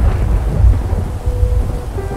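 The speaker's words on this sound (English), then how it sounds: "I like the rain." Steady rain with deep rumbling thunder from the video game Fractured Minds, a loud, continuous storm wash with rolling low booms throughout.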